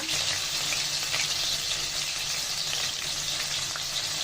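Garlic and ginger paste fries steadily in a pot of hot oil for chicken pulao, a continuous loud sizzle with faint stirring, no voices.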